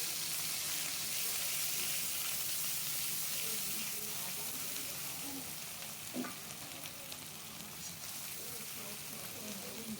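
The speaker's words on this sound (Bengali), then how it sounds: "এরপর পেঁয়াজ বাটাটা দিয়ে দিলাম, দিয়ে ভালো করে ভাজবো।" Steady sizzling of onion paste frying with green chili in a pan, with a constant hiss and a few stirring scrapes and clicks throughout.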